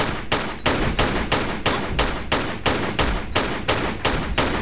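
Steady bursts of gunfire in Tomb Raider: The Last Revelation, about ten evenly spaced shots over a few seconds, loud and close with no talk.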